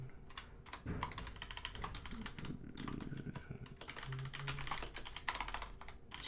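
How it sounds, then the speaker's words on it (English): Steady clicking of keys on a computer keyboard during a livestream, with irregular bursts of keystrokes continuing throughout at moderate level, no talking. "Sorry, typing."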